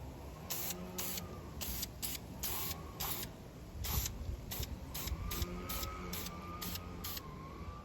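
Bursts of spray paint hiss out as the first coat goes onto a Honda B series transmission outdoors. Many short, regular blasts repeat across the stretch over steady background noise, and no one speaks.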